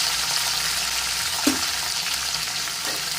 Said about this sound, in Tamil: தக்காளி பச்சை மிளகாலாம் வதங்க வேணும்